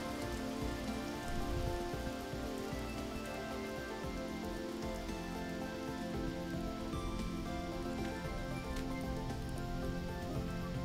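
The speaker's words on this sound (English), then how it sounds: "it's starting to rain over here now" Steady rain falls in the survival video game Vintage Story, a continuous soft patter of drops hitting surfaces, even and unbroken throughout with no voices.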